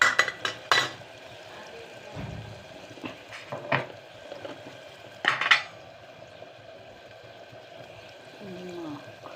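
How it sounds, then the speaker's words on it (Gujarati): A spoon clatters and scrapes in a pan while soaked okra curry is tempered and stirred. The metallic knocks come in irregular bursts over a low simmer, close by, with faint voices in the background. "અત્યારે સીધી વઘાર કરું છું"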